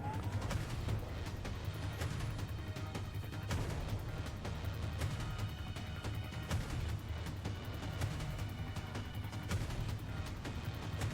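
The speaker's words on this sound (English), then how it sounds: "Just hear all these explosions behind me." Dense, continuous game combat: rapid gunfire and booming explosions overlap throughout, loud and relentless with no pauses.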